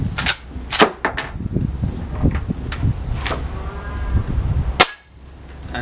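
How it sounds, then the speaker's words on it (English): Umarex Legends lever-action BB gun with a wooden stock, fired into a target: a series of sharp, close cracks and lever clacks through the span, with one loud crisp shot near the end before things go quiet. "fire into the target, as you can hear striking"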